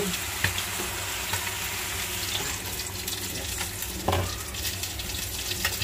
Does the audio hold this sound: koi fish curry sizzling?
yes